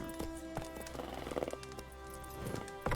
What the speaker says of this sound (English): let's go ahead and mount Roach.